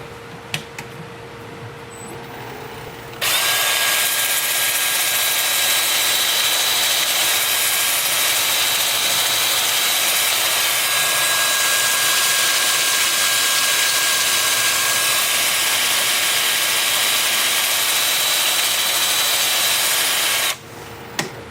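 Live oak is sanded on a wood lathe at up to 400 grit, with a loud steady broadband whirring roar that lasts about seventeen seconds, then stops abruptly.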